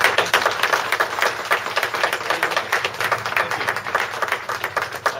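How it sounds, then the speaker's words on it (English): A crowd at a Saskatoon speakers' forum gives a round of applause, dense, even clapping from many hands sustained throughout, with no voices over it. "once again a big round of applause"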